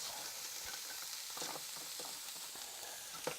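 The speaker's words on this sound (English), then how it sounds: "I'm just going to add my ham onto there to get a bit of browning on that" Ham browning in a hot frying pan gives a steady, soft sizzle with a few faint clicks and stirs, heard alone at a low level.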